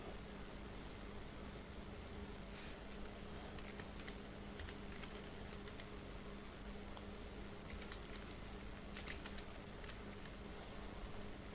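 Typing on a computer keyboard while entering data in an Excel spreadsheet, heard as faint, quick key clicks in irregular bursts over a steady hiss.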